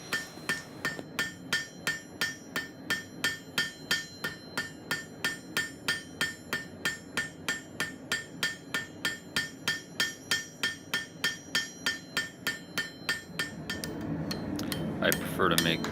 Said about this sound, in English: use the rounding end of my hammer to spread the material out in as perfect a circle as I can